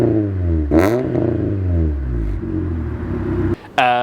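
A modified Fiat Seicento Sporting on coilovers revs hard through a full custom stainless exhaust, the engine note rising and falling in loud close bursts, then cutting briefly before one last sharp blip.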